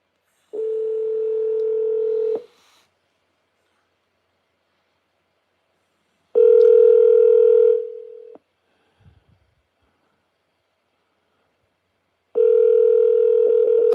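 Phone call placed through an Alexa smart speaker: three long, loud, steady ringback tones, each about two seconds, separated by stretches of silence, with a faint click in one gap.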